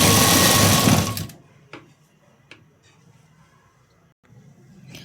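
A sewing machine stitches a blouse in a loud, steady whir for the first second, then stops and leaves a few faint ticks and handling knocks.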